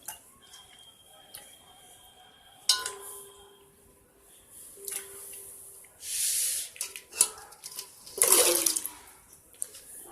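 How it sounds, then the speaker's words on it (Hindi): Two kilograms of Indian gooseberries (amla) dropped into a container of plain water to soak for murabba, with scattered clinks and a couple of loud splashing, rushing water bursts near the end at close range. "अब हम सबसे पहले इन 2 किलो आंवलों को सादे पानी में डाल देते हैं भीगने के लिए।"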